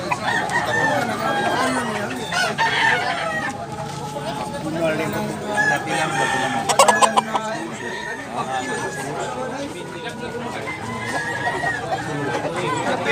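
Gamecock roosters at a market in Tabunok, Cebu crow loudly amid busy crowd chatter and clucking, with people talking close by throughout.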